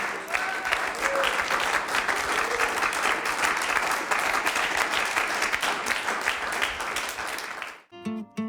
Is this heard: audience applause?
yes